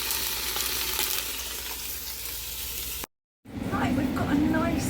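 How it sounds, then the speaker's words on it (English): Beef brisket sears in the pot of a Ninja 15-in-1 pressure cooker, giving a steady close sizzle and crackle that cuts off abruptly, then returns with faint clatter and stirring sounds. "Sear it on all sides so we get a lovely colour."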